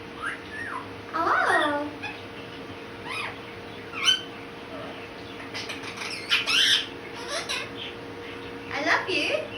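A pet Indian ringneck parrot chirps and squawks in short, bright, scattered bursts while a person talks softly nearby.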